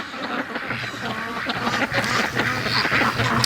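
Free-range ducks quack loudly and repeatedly nearby in a dense, overlapping chorus of harsh calls that runs throughout without a break.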